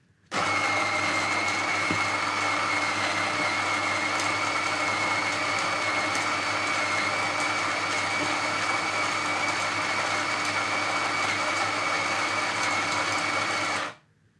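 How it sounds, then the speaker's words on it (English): A Meraki espresso machine's built-in grinder grinds 18 grams of espresso beans at grind setting 15, giving a loud, steady motor whir that runs unbroken for about thirteen seconds before it abruptly stops. "we're going to start off by grinding out our beans"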